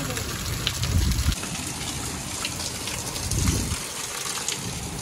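Steady rain pours down during a monsoon-season downpour at a house, with broadband hiss from falling water and two swelling low rushes of gushing runoff; the sound is continuous and fairly loud.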